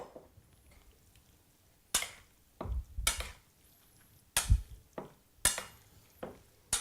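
Sundried tomato and avocado pesto being mixed into pasta, with intermittent scraping and clinking of a utensil against a bowl in uneven bursts between quiet gaps, close and moderately loud.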